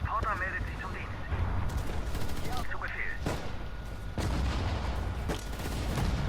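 Dense anti-aircraft gunfire and explosions rattle continuously through a Sudden Strike 4 battle, loud and close, with speech partly mixed in under the steady barrage.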